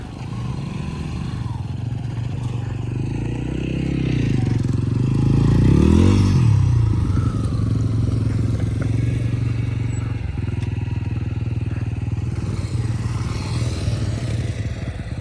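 Motorcycle engines rumble and rev nearby on a mountain road at Chanshal top, swelling louder midway as bikes pass, with some clattering over a steady low drone.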